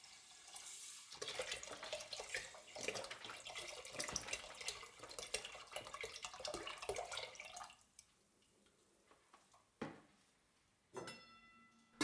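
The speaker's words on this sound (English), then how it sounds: "Then pour in 1 liter of milk." A liter of milk is poured into rinsed rice in a pot for rice pudding, a close, splashing liquid stream that runs for several seconds before stopping, followed by a few brief clinks and splashes.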